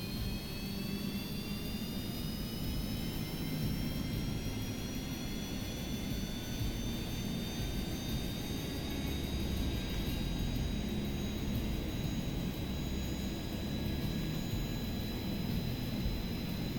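A small aircraft's jet engine runs at full throttle in a rocket-and-plane building game, a loud, unbroken roar with rising whining tones that holds steady throughout, close and without talk.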